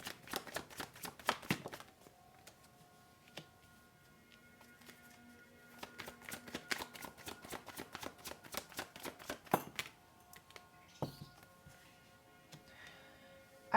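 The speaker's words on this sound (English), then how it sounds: "let me just pull out a couple of cards." Tarot cards being shuffled and pulled from the deck, a fast run of crisp riffling flicks and soft slaps that pauses, then comes back in bursts. The sound is close and quiet, with no voice over it.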